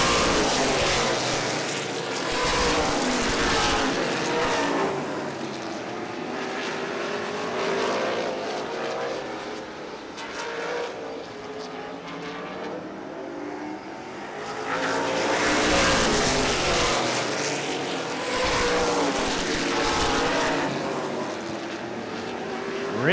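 Late model sportsman race cars roar around an oval track in a 30-lap feature, engine noise swelling loudly as the pack passes, fading, then building again into a second close pass.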